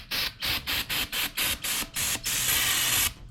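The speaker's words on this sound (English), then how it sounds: "So spray this down with some brake cleaner." Brake cleaner hisses from an aerosol can onto a Miata clutch bell housing in a string of about ten short, loud bursts, ending in one longer continuous spray, close up with no talking.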